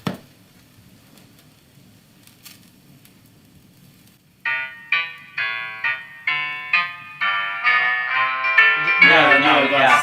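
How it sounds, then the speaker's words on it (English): Music from the soundtrack CD of the Fortune and Glory board game: after a few seconds of faint low hum, bright tuneful chords hit in a steady repeating rhythm, then swell into a dense, loud passage. "Fortune and Glory even comes with a soundtrack CD."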